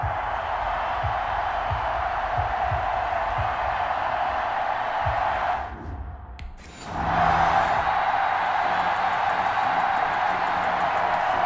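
A large stadium crowd in Madden NFL 21, at a Baltimore Ravens home game against the Kansas City Chiefs, roars as a continuous loud wash that briefly dips and swells again.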